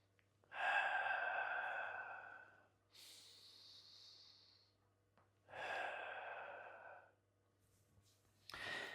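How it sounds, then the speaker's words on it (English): Audible breaths during a foam roller neck mobilisation exercise, close and soft: long drawn inhales and exhales in slow rhythm, separated by quiet pauses, with a low steady hum beneath. "So you're breathing in."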